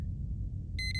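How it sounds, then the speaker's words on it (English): A short electronic alarm in the video game Duskers sounds as a few quick repeated high beeps near the end, following a low background rumble, alone without talk. "I need you to stop beeping every 5 seconds"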